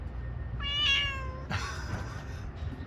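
A cat aboard a liveaboard boat gives a clear, drawn-out meow, close and fairly loud. A second rougher meow follows, with low boat or water rumble running underneath throughout.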